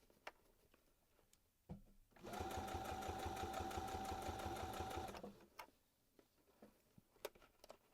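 A sewing machine stitches a reversible bucket hat in one close, rapid, evenly pulsed burst of about three seconds, framed by quiet handling clicks and rustles before and after.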